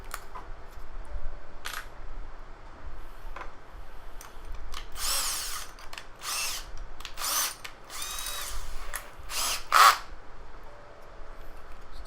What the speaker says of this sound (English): and then start using a drill bit.